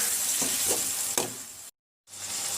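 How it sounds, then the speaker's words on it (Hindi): Chicken fries in a pan for restaurant-style dal gosht, with a loud, steady sizzle and a couple of stirring scrapes before the sound cuts out briefly and then resumes. "अब हम इसके अंदर चिकन ऐड करेंगे और इसे अच्छे से मिक्स करेंगे इसके अंदर, और अब हम इसको अच्छे से भून लेंगे"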